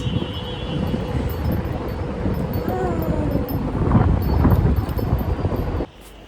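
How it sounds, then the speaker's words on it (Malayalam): Strong outdoor wind buffeting the microphone on a street in Abu Dhabi, a loud continuous low rumble that swells midway and then cuts off abruptly, with faint background sounds. "നല്ല കാറ്റുണ്ട് ഗൈസ്"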